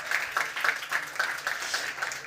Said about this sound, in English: Please, an applause for them.